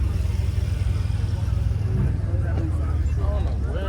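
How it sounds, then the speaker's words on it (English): Loud, rumbling car engine at a car meet of supercars and Mopars in Atlanta, droning steadily and close throughout, with people talking over it. "that car that sounded like a bomb, bro, I need to see what that is"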